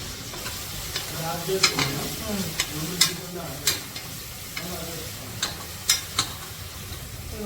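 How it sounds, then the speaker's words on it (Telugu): Ginger-garlic paste frying with browned onions in a pan for hotel-style mutton curry gives a continuous sizzle, with repeated scraping stirs and metallic knocks rising above it, and no one speaks. "అల్లవెల్లి వేస్తున్నా చూడండి ఉల్లిపాయలు వేగిపోయింది"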